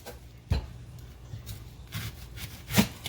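Knife slicing the end off a white onion on a cutting board, a few soft crunching cuts and woody knocks, close and quiet with no talking.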